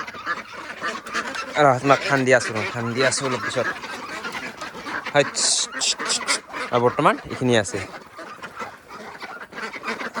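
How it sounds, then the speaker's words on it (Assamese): A flock of two-and-a-half-month-old farm ducks quacks and honks repeatedly nearby in rhythmic bursts, with someone speaking over and between the calls. "ইফালে আছে আমাৰ এই হাঁহখিনি"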